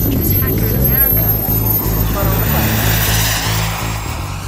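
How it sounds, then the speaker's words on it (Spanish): A jet turbine model airplane with a Jet Central turbine of 16.3 kg thrust roars loudly nearby, a sustained whine with a rising high tone, while someone talks over it. "este avión tiene una turbina de 16 kilos 300 de empuje"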